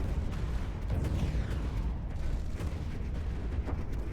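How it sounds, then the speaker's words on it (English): Giga Cannon weapons fire in a Stellaris Nemesis space battle, giving a loud, continuous rumbling barrage of booms and blasts that stays dense and steady the whole time. "so they're basically killing us with Giga Cannons"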